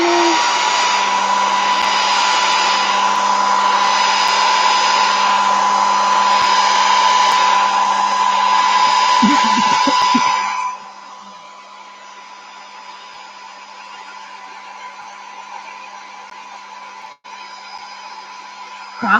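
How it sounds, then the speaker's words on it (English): A loud, steady hair dryer whirs at full power, then drops to a lower, quieter setting and keeps running. "let's dry this. Hair dryer."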